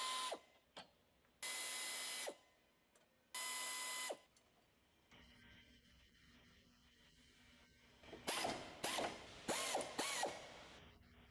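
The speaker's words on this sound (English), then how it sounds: "Remove extension rod bolts to the front subframe using 10 and 13mm sockets." A socket ratchet removing subframe extension rod bolts on a 2013-2015 Ford Escape rattles out in several close, sharp clicking bursts, separated by brief pauses and quieter workshop noise.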